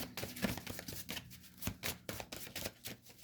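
Tarot cards riffled and shuffled by hand during a card reading, a steady run of soft papery flutters and slaps, fairly close and quiet, with no talk.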